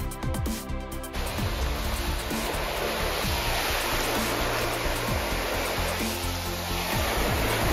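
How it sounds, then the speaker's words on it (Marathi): Sea waves on a Konkan beach in Maharashtra roll and wash in a dense, continuous roar, loud and close, with wind noise over the microphone. "या समुद्राच्या लाटाचा जास्त आवाज ऐकायला एवढ्या दूर आलो बे"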